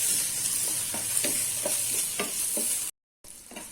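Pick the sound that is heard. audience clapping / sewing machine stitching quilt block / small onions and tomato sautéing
small onions and tomato sautéing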